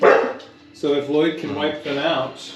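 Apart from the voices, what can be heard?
dog barking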